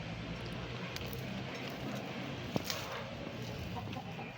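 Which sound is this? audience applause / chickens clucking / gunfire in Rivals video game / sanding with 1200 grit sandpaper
chickens clucking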